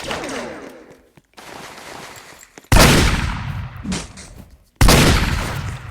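Bursts of gunfire from the Roblox video game, loud heavy volleys in two main blasts with quieter shots and gaps between them, no speech.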